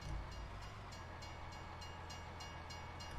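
Train in the Farming Simulator 19 video game, alpine setting: a continuous rumbling rail run with rhythmic clacking, heard steadily throughout with no talking.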